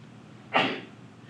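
A single sharp sneeze bursts out in a quiet room during a maths lesson, loud and close, lasting well under a second before fading away.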